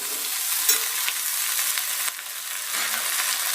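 Tamil medicinal herb leaves and curry leaves fry and sizzle in hot oil for rasam, a dense, steady hiss close by, with a few soft stirring scrapes breaking through.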